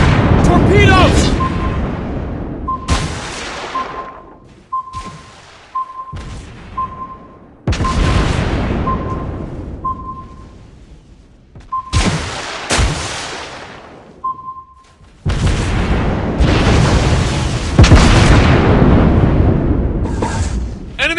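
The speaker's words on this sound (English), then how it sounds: "Torpedoes!" Torpedo hits in a naval battle video game, heavy booming explosions one after another with rumbling decays and a repeating alarm-like tone in between, loud and close, with players talking over the action.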